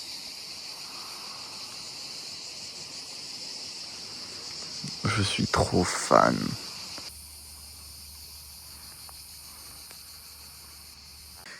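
Cicadas shrill steadily among pine trees in the Var countryside, a dense continuous buzzing drone throughout, with people talking briefly partway through.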